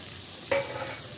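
Potato pieces with turmeric, coriander, chili powder, crushed garlic and green chili frying in oil in a pan, a steady close sizzle broken by one brief scrape of a stirring utensil.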